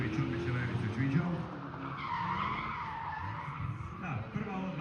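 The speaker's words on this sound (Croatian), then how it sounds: "Evo da vidimo i ovaj drift." Tires squealing and skidding as a car drifts at the Meet for Speed motorsport event at Grobnik, Croatia, a loud continuous screech with engine roar and crowd noise throughout.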